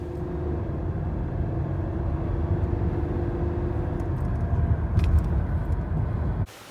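Toyota Camry driving, a steady low engine and road rumble with a sustained tone that drops away around a gear change, then an abrupt cut near the end.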